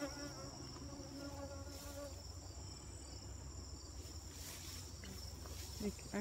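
Honeybees swarm around a beekeeper feeding them on a warm, humid morning, a steady faint droning buzz close by with a continuous insect hum and no talking.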